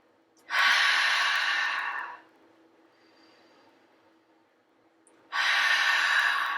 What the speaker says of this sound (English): Now we're going to start an open mouth exhale. Ha breath.